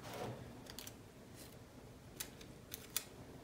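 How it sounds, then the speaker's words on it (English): Scissors snipping a small piece of tape, a few quick crisp snips close by, then two sharper cuts near the end, with no talking over a quiet background. "I take the tape and I just cut a little tiny piece of tape"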